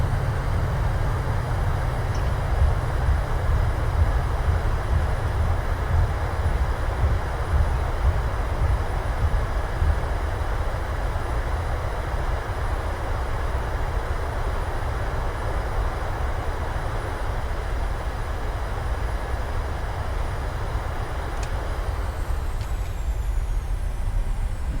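Airliner landing in Microsoft Flight Simulator with thrust reversers deployed, giving a loud, steady roar of engine and rushing air that holds unbroken throughout and eases slightly near the end, no voices.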